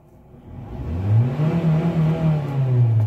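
A Honda City 1.5 automatic, with an Aspire engine and a lit check-engine light, starts up and revs, its engine note rising and holding steady, loud and close, with no talking.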